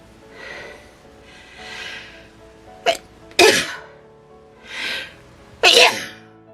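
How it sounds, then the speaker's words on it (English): Several sneezes in a row, each preceded by a short indrawn breath, loud and close, with no talking. "Oh, I had a sneezing fit."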